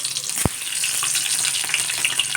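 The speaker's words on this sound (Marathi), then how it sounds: "तेल तापलेलं आहे. आपण सर्वप्रथम याच्यात मिरची घालून घेऊया." Green chillies hit hot oil with a sharp click, then a steady hissing fry continues close by, bright and even with no voices.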